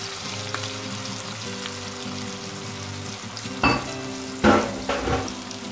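Eggs fry over high heat in a wok for Chinese takeaway chicken foo young, with a steady sizzle over a low burner hum, broken by loud bursts of hissing and spatula scraping in the last two seconds.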